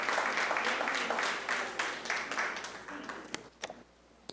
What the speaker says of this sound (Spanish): Démosle un aplauso al Señor bien fuerte.